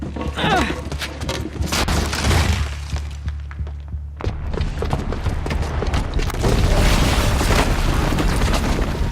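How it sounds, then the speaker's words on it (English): A booby-trapped bomb goes off in Horizon Zero Dawn: a deep rumbling blast, a brief hush, then a second heavy, crackling detonation with debris that keeps rolling loudly to the end. "the booby trap on the bomb downstairs is gonna get set off"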